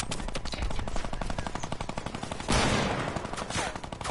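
Several miniguns fire together in Fortnite in a dense, rapid mechanical rattle that continues without a break, with a sharp burst surging partway through.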